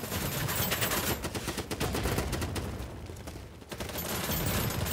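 PP2000 submachine gun in the video game Battlebit Remastered firing in dense, nearly continuous rapid bursts, loud and close, with only a brief thinning of the shots partway through and no talking.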